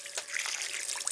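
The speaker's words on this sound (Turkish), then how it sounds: "Şimdi ellerimi yıkayayım." Hands washed under a running tap, giving a brief, soft trickle and splash of water that stays faint and close, with no voices.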